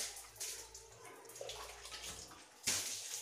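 Water is splashed with a broom across bathroom wall tiles, several uneven wet slaps and sprays of moderate loudness that end in a sharper, louder splash.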